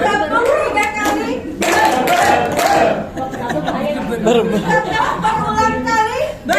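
A classroom audience at a positive-culture school session at SMAN 9 Balikpapan claps hands on command amid lively chatter and some chuckling, the applause bursts loud and close with voices talking throughout.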